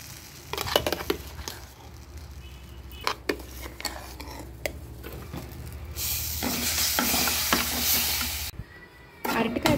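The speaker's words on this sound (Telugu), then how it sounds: "అరటికాయ పేస్ట్ని వేసుకున్నాక ఇదంతా కలుపుకోవాలండి" Banana paste being stirred into roasted semolina in a pan while making ripe-banana bobbatlu: scraping and patting strokes of a spoon against the pan, with a brief louder hissing burst partway through and no voices.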